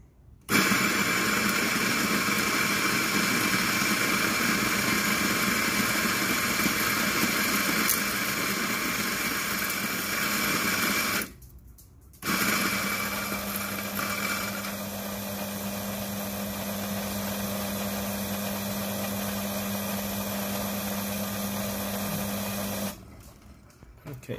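A coffee grinder, a DF64 or a Eureka Mignon Specialita, grinds espresso beans in two long, steady runs of loud, close whirring, split by a short break of near silence.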